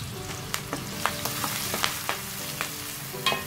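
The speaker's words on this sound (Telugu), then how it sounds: "ఇలాగా మిక్స్ చేసుకుంటూ ఉల్లిపాయలు కొంచెం ఎర్రగా అయ్యే వరకు కూడా ఫ్రై చేసుకోవాలి" Onions and fresh curry leaves fry in hot peanut oil while a spoon stirs them, giving a steady close crackling sizzle broken by sharp clicks of the utensil against the pan.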